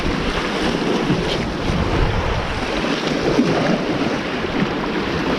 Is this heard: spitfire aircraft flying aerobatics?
no